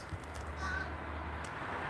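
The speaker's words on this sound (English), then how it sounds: "There's a lot of crows." Crows caw faintly outdoors, a few short distant calls over a low steady background rumble, with no speech.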